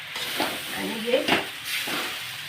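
Soaked puffed rice and fried peanuts being sautéed with chili powder in a pan, a soft sizzle with scraping stirs, under a voice speaking nearby.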